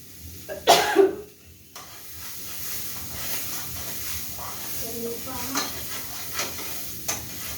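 Green chili paste fries in a pan with a continuous hissing sizzle under light stirring, preceded by a sharp burst of clatter near the start and a few soft taps later on.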